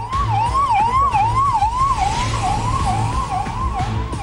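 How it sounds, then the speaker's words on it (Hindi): Ambulance sirens wail through the night in Noida's Sector 8, a loud, steady up-and-down electronic tone sweeping repeatedly over a low engine rumble, with no voices. "सन्नाटे को चीरती हुई एम्बुलेंस के सायरन की आवाजें हैं"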